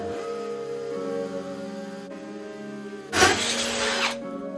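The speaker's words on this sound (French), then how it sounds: "Bon, là, je perce." A power drill bores into a wall joint for fixings, heard as one short, loud burst of about a second over steady low background hum.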